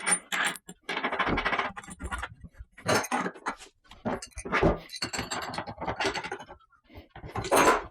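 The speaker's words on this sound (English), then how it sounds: "So I'm going to go ahead and get some washers on this and a nut." Metal washers and a nut being fitted onto an old 1x30 strip sander converted to 1x42, heard as close, irregular clinks, taps and scraping handling noises in short bursts.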